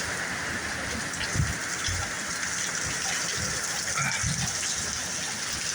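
Heavy storm rain with wind gusts near 60 mph makes a steady, dense rushing downpour, with low buffeting thumps underneath and no voices.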